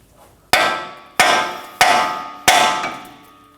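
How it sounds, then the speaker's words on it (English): Four sharp, loud metal hammer blows strike near a Nissan Armada tie rod to pop it loose, evenly spaced with ringing decay after each hit, close up. "Using a hammer, we're gonna hit right around here to pop it off."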